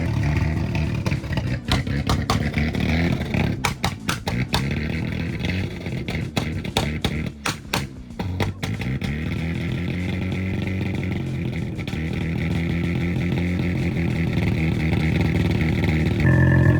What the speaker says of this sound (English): Now it sounds like a rotary.